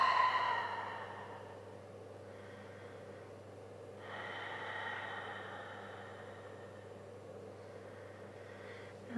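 Slow, quiet breathing in a yoga child pose, with two soft drawn-out breaths over a low steady background hum, close but faint and without talk.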